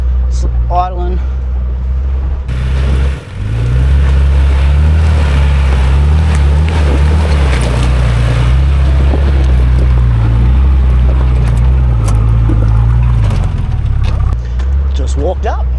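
Nissan TD42 diesel engine idling in an off-road 4x4 with lockers engaged, a steady low rumble running throughout under occasional wind and brief talk.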